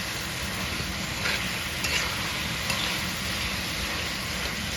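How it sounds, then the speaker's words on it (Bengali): Fish roe fries in a pan with spices, giving off a steady, moderately loud sizzle with a few faint scrapes of stirring. "শাক ভাজির জন্য মাছের ডিমগুলা ভুনা ভুনা করা হইতেছে।"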